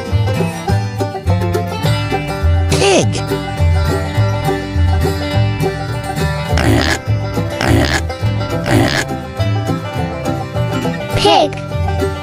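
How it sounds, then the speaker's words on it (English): Several short grunting oinks over a steady upbeat music bed, spread across the clip with pauses between them. "Pig."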